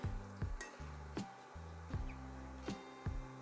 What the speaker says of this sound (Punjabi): ਆਪਾਂ ਘੱਟ ਗੈਸ ਤੇ ਹੌਲੀ ਹੌਲੀ ਭੁੰਦੇ ਰਵਾਂਗੇ